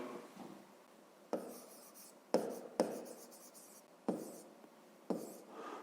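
Pen writing a math solution on paper in a quiet room: a soft, steady scratching of strokes, broken every second or so by sharper taps as new characters begin.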